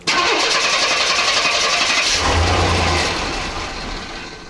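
Chevy C10 stepside engine cranks and catches without gas on a cold start, the loud starter whir turning into a rough firing rumble that then settles toward a fading idle.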